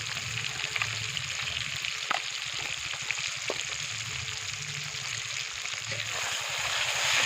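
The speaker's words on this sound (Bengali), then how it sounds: "নেড়ে দেবো, পেঁয়াজটা ভাজা ভাজা হবে।" Onions with salt and a little sugar fry in a pan with a soft, steady sizzle, broken by a few light taps and scrapes of stirring, heard close and fairly faint.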